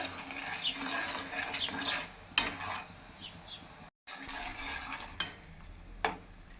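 Spoon scraping and stirring sugar syrup in a pan while making Mysore pak, a soft continuous swishing with occasional sharper clicks against the pan, close and fairly quiet.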